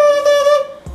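A bassoon double reed is buzzed on its own, giving a bright, reedy, steady tone that holds for about half a second before cutting off, followed by a short soft thump.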